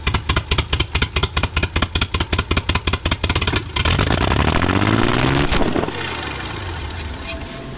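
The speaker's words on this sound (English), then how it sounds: "It revs to the moon." Abandoned 1950s Rolls-Royce engine being started after years of disuse: rhythmic chugging firing pulses, then a loud sustained rev rising in pitch, then easing back to a steadier running drone.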